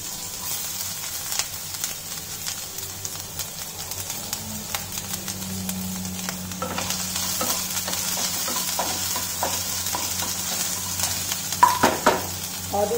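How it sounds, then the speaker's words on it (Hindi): Ginger and garlic fry in hot oil in a pan, a steady close sizzle with occasional stirring scrapes and clinks building toward the end, with no talk. "हमारा पैन में एक तेल गरम हो रहा है, इसमें हम डालेंगे ये जिंजर, जिंजर गार्लिक जो हमने रखा हुआ है,"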